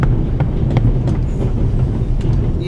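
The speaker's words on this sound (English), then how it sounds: "The noise on this train is driving me crazy." On the Orient Express in the game The Raven, a train rumbles with a loud, steady low roar and faint rhythmic clicks of wheels on rails, continuous throughout with no voices.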